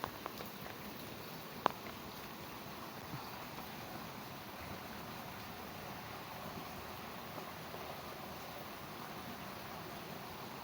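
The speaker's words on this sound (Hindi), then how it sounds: "ज़ोरदार बारिश भी हो रही है।" Heavy monsoon rain falls outdoors among potted plants, a steady, even wash of patter and hiss with a cool breeze, distant and unbroken, with one brief sharp click near the start.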